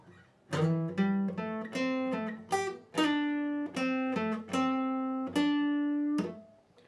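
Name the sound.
guitar playing a song's intro part 1 at real speed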